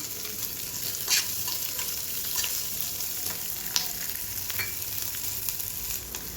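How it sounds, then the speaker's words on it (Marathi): Chopped onion and cumin seeds frying in a pan, a steady broadband sizzle held throughout with a few soft scrapes and light stirring ticks, close and alone with no voices. "आता इथे कांदा भाजून होत आहे."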